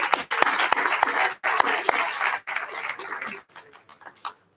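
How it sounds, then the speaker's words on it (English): An audience at an inclusive growth forum applauds a panel in loud, uneven bursts of clapping that thin out and stop near the end. "A round of applause for the entire panel,"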